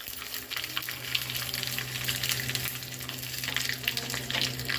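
Dried red chilies with cumin seeds frying in hot oil for karapu pappu, a steady close crackling sizzle with small popping bursts that carries on evenly without speech.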